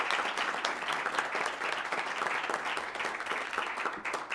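Parents standing at a school board meeting receive applause, a dense, continuous round of clapping from a seated audience that stays fairly even and moderately loud throughout.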